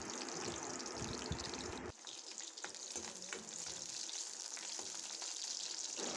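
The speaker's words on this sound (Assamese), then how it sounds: "পিঁয়াজখিনি ধুনীয়াকৈ তেলত দি দিছোঁ।" Onions dropped into hot oil in a pan, a loud hiss and sizzle at first that drops to a softer, crackling fry after a sudden change, with no voices.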